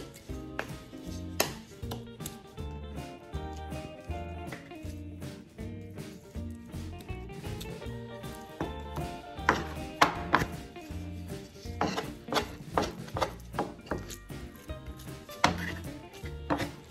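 Wooden butter paddles press and shape fresh homemade butter, making irregular soft taps and slaps that grow busier toward the end over a quiet tonal background.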